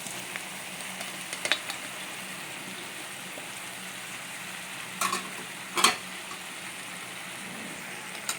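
Fried okra and potato pieces being stirred into a pan, a low steady sizzle with a few brief scraping clinks of the spoon against the pan.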